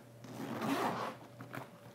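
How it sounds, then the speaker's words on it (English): A zipper runs on a bag's inside pocket, giving one quiet, close rasping pull that swells and fades, then a few faint ticks. "That's a good sounding zipper."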